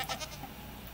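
A goat bleating in Minecraft's 1.17 Caves & Cliffs update, a single short bleat at the start followed by fainter game ambience.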